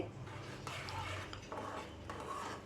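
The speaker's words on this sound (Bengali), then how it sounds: "এরকম নেড়ে যেতে হবে এবার ঘন হয়ে এসছে আরও ঘন হয়ে যাবে" A thickening milk mixture for pera sweets is stirred in a pan, giving soft, close scraping and light metallic clinks of a utensil against the pan, with faint voices in the background.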